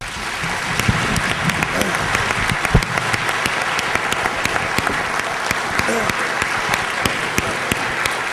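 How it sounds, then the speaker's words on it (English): An audience at a debate applauds the two participants, dense sustained clapping with crisp individual claps popping through, fairly loud and filling the whole stretch. "I think we can give these two gentlemen an applause"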